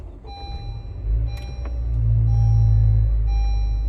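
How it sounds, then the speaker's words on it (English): A 2017–2022 Honda CR-V engine cranks and catches, settling into a steady low idle rumble that swells after a few seconds, close by with no talking. "next thing I'll do is I'll start the car up"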